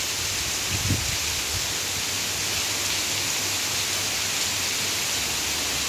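Steady, dense wash of rain falling outdoors at Jomtien Beach, Pattaya, an even broadband hiss with a brief low thump near the start.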